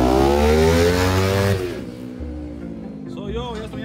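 A nearby motorcycle engine revs with a rising harmonic whine, then drops to a lower idle while a voice speaks faintly.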